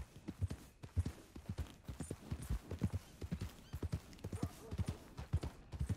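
Horse hooves clip-clopping at a steady walking rhythm in Red Dead Redemption 2, close and clear, with regular thuds through the whole stretch and a faint whinny or two in the background.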